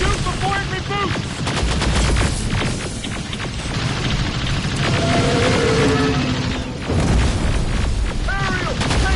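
Dense gunfire and booms fill a Terminator Resistance firefight, loud and continuous, with shouting voices mixed underneath.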